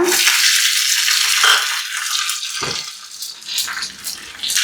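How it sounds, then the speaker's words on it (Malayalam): Dried red chilies, mustard seeds and curry leaves spit and sizzle in hot oil for a Kerala vellarikka pulinkari tempering, a loud steady frying crackle with a few stirring knocks, and no voices. "കറിവേപ്പില നന്നായിട്ട് മൂക്കി കഴിയുമ്പോൾ നമുക്ക് കറിയിലേക്ക് ഒഴിച്ചു കൊടുക്കാം"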